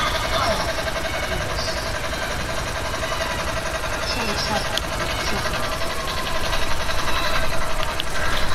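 Video game helicopter engine droning steadily, a dense continuous rotor and turbine roar that swells slightly near the end, with a person talking over it.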